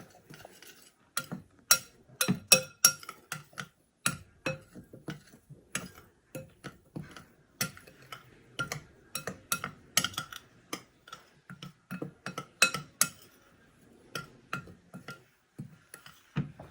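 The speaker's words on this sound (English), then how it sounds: "we're going to mix all this together before we do our wet ingredients" Utensil repeatedly clinking and scraping against a bowl while baking soda is stirred into dry paleo chocolate cake ingredients, an irregular run of sharp close taps and clicks lasting throughout with no talking.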